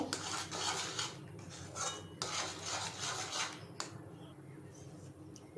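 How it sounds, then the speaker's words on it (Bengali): Milk powder being stirred with a spoon into boiled, reduced milk in a pan: repeated scraping and rubbing strokes against the metal, in close bursts with short pauses, moderately loud and without talk. "এখন আমি দু চা চামচ পাউডার দুধ দিয়ে দিলাম ভালো করে মিশিয়ে নেব"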